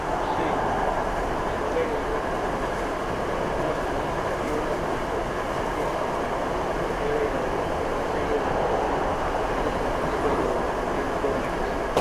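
Steady low rumble and rattle of a moving train carriage heard from inside, continuous and even throughout, with no voices.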